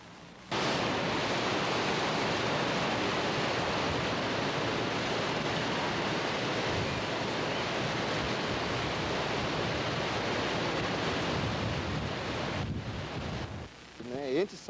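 Loud broadband rushing of the Rio Preto near its first waterfall, a steady wash of water noise filling the whole stretch, partly buffeted by wind on the microphone, then cutting off near the end.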